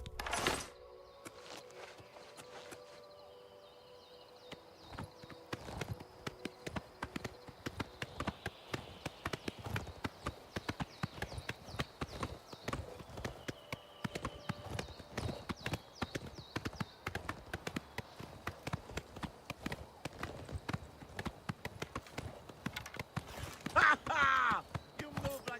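A horse in Oblivion Remastered clip-clops along in steady, rhythmic hoofbeats that start after a few seconds and carry on throughout, with a player talking over the gameplay.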